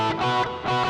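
A distorted electric guitar plays a quick fretted pattern from a solo across two strings, a brief bright burst of repeated notes.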